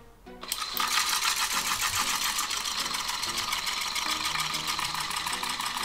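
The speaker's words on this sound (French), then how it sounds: "Et on va appuyer sur le bouton. C'est genre une vraie machine à laver en fait." A small mini washing machine for makeup sponges and brushes switches on with a click and runs with a loud, steady motor whir and rattling hum that continues to the end.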